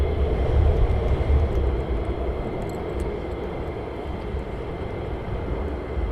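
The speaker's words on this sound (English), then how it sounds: "One F15 inbound" An F-15 fighter jet flying inbound near RAF Lakenheath, a broad, steady roar from a distance that swells slightly at the start, then holds constant.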